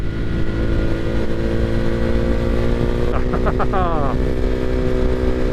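Motorcycle fitted with a Leo Vince exhaust and modified intake: a loud, steady engine drone close by with a quick rising rev partway through, under ongoing talk.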